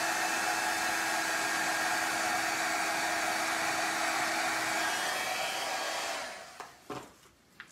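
Heat tool blowing steadily while melting embossing powder on an art journal page, a constant loud whooshing whir that cuts off near the end, followed by a few soft handling knocks.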